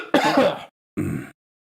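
Two rough throat clearings, a longer raspy one followed after a short pause by a briefer one, close and fairly loud, with no speech.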